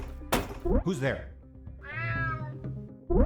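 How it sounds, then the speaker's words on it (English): A cat meows in the stealth video game UnMetal, one clear rising meow standing out among game sound effects and character voices speaking around it. "Damn cat."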